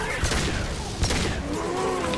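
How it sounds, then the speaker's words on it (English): Enemies blow up in Mass Effect 2 with a dense run of loud explosive bursts and gunfire, sharp peaks near the start and middle over a continuous rumbling battle mix. "why do these guys explode all of a sudden?"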